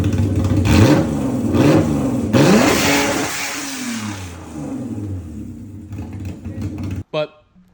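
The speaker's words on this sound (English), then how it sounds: "I'm just revving it" A VR6 car engine fitted with adjustable cam gears revs repeatedly, rising and falling in pitch, fairly close, with a brief burst of sound at the end.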